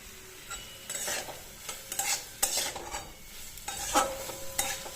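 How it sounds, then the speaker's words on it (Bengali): Vegetables cook in a pan with a soft sizzle under repeated stirring, spoon scrapes and light clinks against the metal, fairly quiet and close. "আর এদিকে সবজিগুলো একে একে কাটছি, আর তোমার রান্না করছি"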